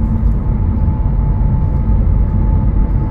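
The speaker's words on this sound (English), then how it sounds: "The tires, you can just hear all of that." Steady, loud low roar of tires on pavement heard from inside a moving 2021 Honda HR-V Sport AWD, with a faint constant hum on top.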